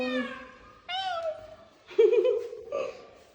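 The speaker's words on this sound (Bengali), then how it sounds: "এই যে ম্যাও" A cat meows several times indoors in a newly built house: short, rising and wavering cries close to the microphone, with a person's voice nearby.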